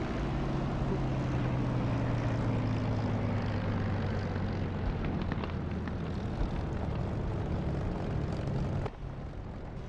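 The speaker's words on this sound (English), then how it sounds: "It's an airplane, I know that. 51 sounds right." A P-51 propeller fighter's engine in the DCS flight simulator drones steadily and loudly throughout, a continuous rumbling roar with a slight shift in tone near the end.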